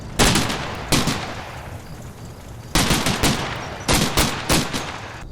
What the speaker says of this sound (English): Sporadic firefights ensue as our infantry moves up and catches glimpses of the enemy changing position